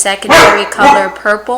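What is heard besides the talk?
dog barking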